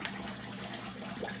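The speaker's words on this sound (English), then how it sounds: "We're gonna go ahead and do a cold water rinse." Cold tap water runs steadily into a bathroom sink for a face rinse after shaving, a close, continuous splashing hiss with no talking.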